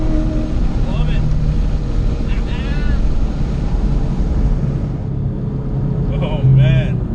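A supercharged Chevrolet Camaro ZL1 engine roars steadily under a bridge, a loud continuous drone with a brief swell near the end, heard from inside the car alongside occasional chirping noises.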